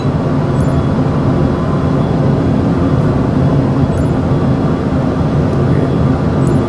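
A steady, loud engine drone of an airplane on a crosswind landing approach in a flight simulator game plays continuously without a break, a broad rumbling hum with no talking.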